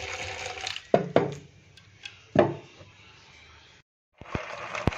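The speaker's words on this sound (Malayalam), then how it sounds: "ഈ വെള്ളം ഊറ്റിക്കലാണ്." Water from boiled dried cassava draining out of a pot, with splashing pours and drips in a few bursts, a short silent gap, then more close trickling.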